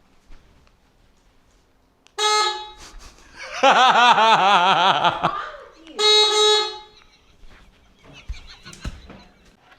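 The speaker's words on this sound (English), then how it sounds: "I got the PidZoom FH60 horn and alarm. This thing is unbelievably loud." Loud PidZoom FH60 electronic horn and alarm on a Hovsco HovGtrs Evo moped e-bike blasts in several bursts, including a warbling alarm-like stretch, with a brief spoken word at the start.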